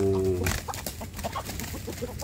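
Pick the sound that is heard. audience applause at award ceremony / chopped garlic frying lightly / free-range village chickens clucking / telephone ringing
free-range village chickens clucking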